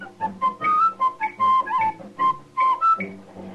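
Someone whistles a lively melody, clear bright notes in quick phrases with short breaths between them, close and alone.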